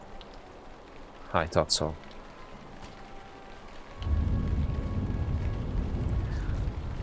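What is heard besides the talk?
rain in Lord of the Rings Online video game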